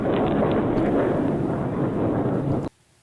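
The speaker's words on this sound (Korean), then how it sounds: "키예프에 뭔가 또 폭발음이 들리고 있습니다." Explosions in Kyiv during the war in Ukraine, heard as a loud, continuous roaring blast rumble with wind-like noise that runs for nearly three seconds, then cuts off abruptly into quiet.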